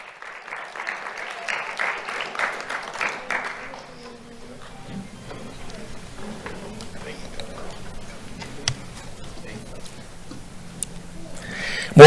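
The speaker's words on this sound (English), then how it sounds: "Let's have a round of applause for Morgan Barker." A short burst of audience clapping at a sheriff's office awards ceremony, fading after a few seconds into quiet room tone with small ticks.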